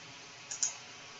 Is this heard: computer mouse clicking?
yes